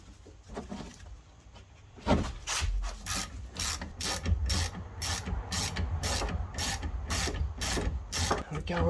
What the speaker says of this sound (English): Now, using 7mm hexagon bit, undo those